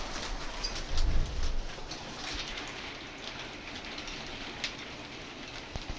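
Heavy rain pours down outside an open window in Murmansk, a dense, unbroken hiss of drops on surfaces that stays steady throughout, with a low rumble near the start and no one speaking.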